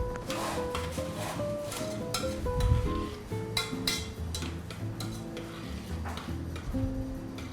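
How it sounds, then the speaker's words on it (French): A spoon stirs a simmering pot, with light ticking clinks and taps against the cookware at an uneven rhythm. It is close but fairly soft, with no speech. "faire mijoter le truc avec la cuillère"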